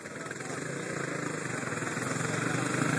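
Motocross quad engine running at a practice session on a dirt track, a steady, continuous mechanical drone with rough pulsing that grows slightly louder over a few seconds, with faint background noise.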